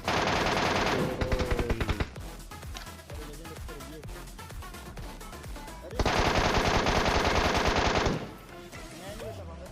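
Rapid automatic gunfire in a mobile battle royale game plays on iPhone 11 Pro Max, with two loud sustained bursts separated by scattered single shots and sharp game effects, close and dense with no speech.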